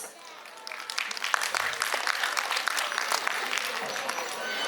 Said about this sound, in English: Let's welcome them with a big round of applause.